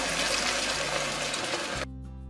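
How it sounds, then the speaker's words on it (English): Beef broth pours steadily into a soup pot in a continuous loud liquid rush that stops abruptly near the end, leaving only a low background hum. "And now I'm gonna add in my beef broth."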